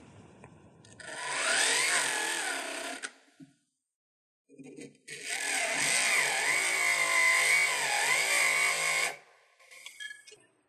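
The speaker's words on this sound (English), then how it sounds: "we need to move the burr around in a circular motion, cutting into each prong just a little bit further" A small rotary burr in a jeweler's handpiece cutting seats into ring prongs for setting sapphires: two sustained high whines, the first about three seconds and the second about four, with a pause between them and brief buzzes afterward.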